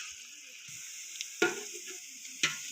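Onions roast in a pan with a soft steady sizzle, punctuated by two sharp scrapes of a spoon stirring against the metal.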